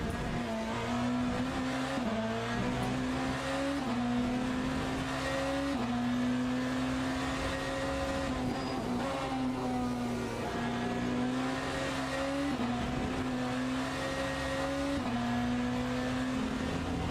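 A BMW hypercar engine in the racing game Le Mans Ultimate drones and shifts pitch steadily through gear changes at Le Mans, with tires squealing now and then, loud and continuous with no talking.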